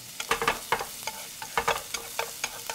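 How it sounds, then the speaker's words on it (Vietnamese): Shallots and minced garlic fry in hot oil in a pan, with crackling sizzle and repeated stirring scrapes in an irregular rhythm, close and fairly quiet, with no talk. "Dầu nóng thì mình cho hành tím và tỏi băm vào phi lên cho thơm hết các bạn."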